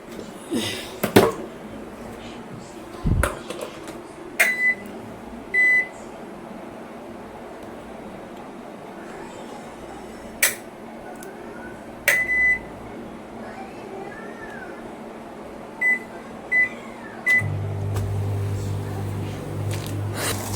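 A microwave oven warming leftover mutton mince: scattered keypad beeps and clicks in the first seventeen seconds, then the oven starts with a steady low hum that runs to the end, in a home kitchen.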